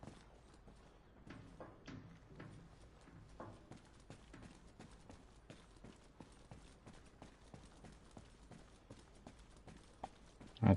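Footsteps in Arma Reforger, set on Arland, tap out as a quiet, irregular run of soft thuds and clops, faint and close, ending in a sudden louder knock.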